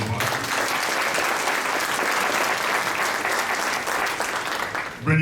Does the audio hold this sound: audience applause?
yes